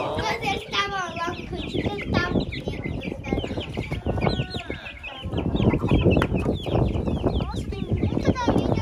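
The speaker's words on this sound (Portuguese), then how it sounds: "Nossa, tem muita galinha, né?" Lots of chickens clucking and squawking close by, a busy flock chattering continuously with voices talking over them.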